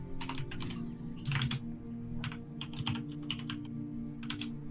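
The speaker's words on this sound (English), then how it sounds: "Can you hear my typing, by the way?" Rapid keystrokes on a computer keyboard clatter in irregular bursts over a steady low hum, close to the microphone, with no talking.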